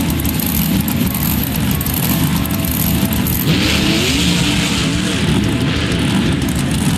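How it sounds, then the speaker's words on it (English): Monster truck, the Lucas Stabilizer, in the BeamNG Drive video game: a loud, dense engine roar held steady with a gritty rumbling texture, revving slightly midway. "This is one awesome monster truck."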